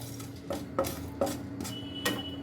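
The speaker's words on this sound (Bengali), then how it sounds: "ভালো করে ভেজে নেব কাঠখোলা" Ingredients dry-roast in a pan for a homemade shikanji spice mix, with a spatula scraping and knocking against the metal in four or five distinct strokes over a low background hum.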